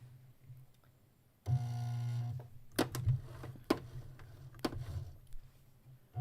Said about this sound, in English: I set my presser foot down on it, and I start sewing.